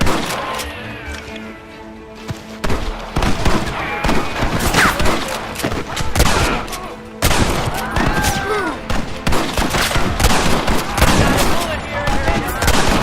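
In Red Dead Redemption on Xbox 360, a mounted gun fires in long rapid bursts of loud, dense cracks, with shouting and battle chaos mixed through the barrage and brief pauses between volleys.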